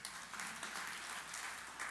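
A church audience gives a brief burst of applause during a sermon, steady dense clapping at moderate distance, fairly faint, with no talking over it.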